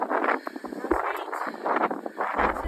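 Wind gusts buffet the microphone in rough, roaring waves, with voices faintly underneath, on the North Coast 500 road trip route in Scotland.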